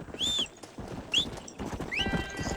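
A horse in the Red Dead Redemption video game whinnies in several high, sweeping calls over brisk clip-clopping hooves, loud and close.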